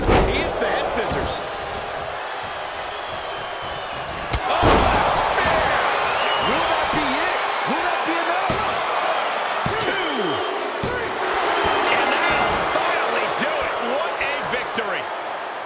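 Head scissors takedown slam in a wrestling video game: a sharp heavy impact cracks out near the middle, with a few lighter smacks around it, over a constant roaring arena crowd.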